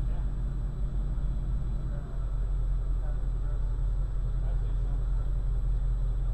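Ford Mustang GT350 with its exhaust in sport mode, a steady deep low rumble holding throughout at close range, with people talking over it.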